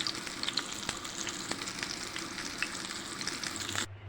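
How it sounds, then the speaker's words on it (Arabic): Chicken browns in a hot pan with a dense, crackling sizzle and scattered sharp pops, steady for about four seconds before cutting off abruptly near the end. "كده الفراخ اهي بتتحمر زي ما انتم شايفين"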